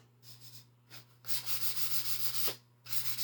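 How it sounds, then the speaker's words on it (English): Drywall mud being sanded back by hand, close rhythmic rasping strokes in short bursts separated by brief pauses, with no talking. "Okay, so I'm completely sanding this back, okay?"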